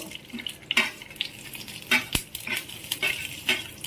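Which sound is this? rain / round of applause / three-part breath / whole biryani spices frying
whole biryani spices frying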